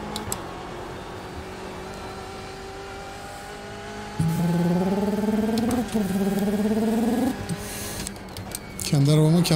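A voice imitates a BMW race car engine during iRacing practice at Summit Point, making rising revving tones in two long bursts, then a shorter one at the end, over a faint background drone.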